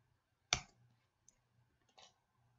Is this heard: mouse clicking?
yes